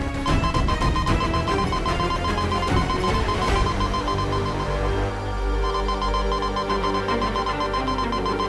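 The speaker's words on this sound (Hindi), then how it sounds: "ये तो वीर लोग का सिक्योरिटी अलार्म है।" Security alarm ringing loudly and continuously in a TV fantasy show, a dense repeating electronic bell tone with a rattling texture that holds steady across the whole stretch with no talk.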